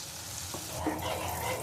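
Butter and oil sizzling and crackling in a hot pan, a steady close frying hiss throughout.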